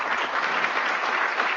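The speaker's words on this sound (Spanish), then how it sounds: "todo el mundo aplaudiendo" A crowd applauds steadily, a dense wash of many hands clapping at even loudness throughout, with no gaps or voices standing out.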